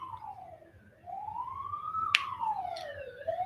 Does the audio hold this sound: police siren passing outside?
yes